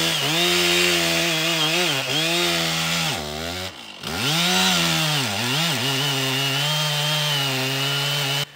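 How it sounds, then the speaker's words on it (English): A freshly sharpened chainsaw cutting wood on the first cut of the day, loud and close, its engine note dipping and rising as the chain bites, with a brief pause before resuming, no talking. "This saw was super sharp, and this is the very first cut of the day."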